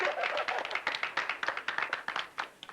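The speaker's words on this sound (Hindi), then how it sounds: "ताली बजाओ, ताली ताली" Clapping from a small group in a classroom scene of an Indian action film, a quick run of sharp, uneven hand claps close by that builds and thins over a couple of seconds.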